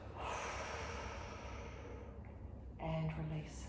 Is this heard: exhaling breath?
yes